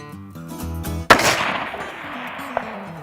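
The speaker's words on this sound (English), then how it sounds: "Let's take a shot, shall we?" A single loud rifle shot cracks out with a long fading rolling echo outdoors, fired through an ATN X Sight 4K Pro scope, with a drone hum audible beforehand.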